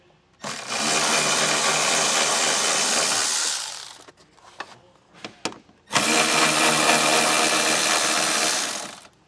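A power tool removes two 8mm bolts from the door threshold of a 2023 Volvo, each run a steady, close whir of a few seconds, separated by a pause with light clicks and handling noises.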